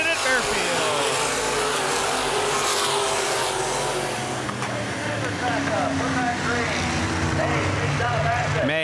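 Open-wheel modified race cars roar around a dirt speedway under green-flag racing, a loud continuous engine drone with rising and falling pitch as cars pass, under a race announcer's commentary.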